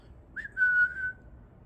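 A single clear whistled note, rising briefly then holding steady for about a second, alone against a quiet background.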